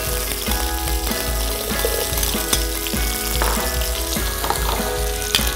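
Beef and ginger frying in a pan, a continuous loud sizzle with crackling spatters and occasional stirring scrapes, close and uninterrupted throughout.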